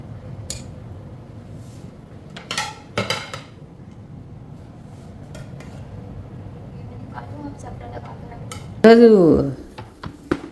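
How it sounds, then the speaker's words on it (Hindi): Steel dishes and utensils are washed in a home kitchen, giving scattered clinks and clattering knocks, with one louder metallic clang near the end, while people talk nearby. "मैं इतने साफ सुथरे बर्तन धोता हूँ"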